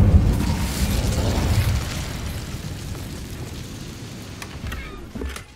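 A fiery Incendio blast cast in Hogwarts Legacy, a video game: a loud burst of roaring flame and rumble at the start that slowly fades, with a couple of fainter magical pops near the end.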